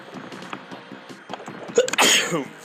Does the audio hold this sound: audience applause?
no